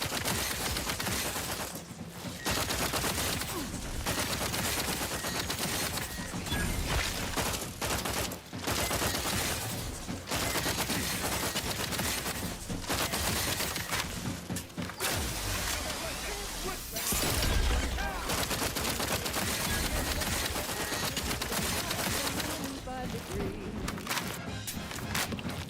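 Rapid bursts of StG assault rifle fire in the Outer Worlds 2 video game, dense and loud over a game soundtrack with footsteps, while someone talks across much of it.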